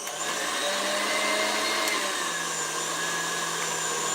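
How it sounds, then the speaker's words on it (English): A stand mixer fitted with a whisk attachment runs at a constant, close motor whine with a steady hum, briefly dipping in pitch midway before settling. "Put the whisk attachment on here"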